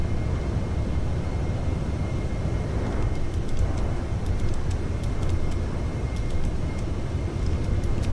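A flight simulator game plays an outside view of an airplane, giving a continuous broadband engine and wind roar that stays steady and loud throughout, with faint ticking on top.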